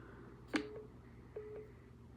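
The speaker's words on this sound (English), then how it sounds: "I'm getting a phone call." A phone signals an incoming call with a few brief, faint electronic beeps that are spaced apart over a quiet room background.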